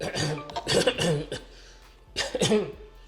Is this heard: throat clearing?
yes